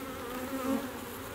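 Honey bees buzz steadily and loudly up close during a hive inspection, a dense continuous drone with no voices.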